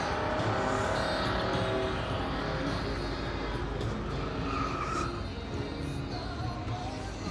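Loud, continuous roar of car engines and revving at a classic car and air show in the UK, dense and rumbling throughout, with faint voices mixed in.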